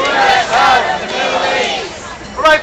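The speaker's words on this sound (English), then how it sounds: "Got a crowd of about 200 here at the Powell Market here in San Francisco" A protest crowd of about 200 people at Powell Market in San Francisco chants together in unison, loud and close, with voices swelling and fading in rhythmic waves.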